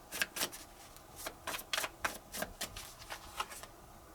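Tarot cards are shuffled and drawn by hand close to the listener, giving a quiet, irregular run of crisp flicks and riffles with short pauses between them.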